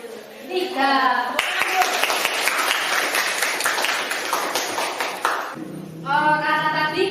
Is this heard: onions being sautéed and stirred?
no